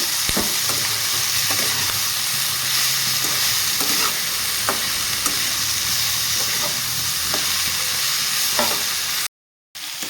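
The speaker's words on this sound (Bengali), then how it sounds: "তো হলুদ নুন দিয়ে আমি সুন্দর করে নাড়িয়ে ফেলে নেব" Cauliflower and potatoes fry with salt and turmeric while a spatula stirs them, producing a loud continuous sizzle broken by regular scraping strokes against the pan, with no voices; a brief dropout near the end.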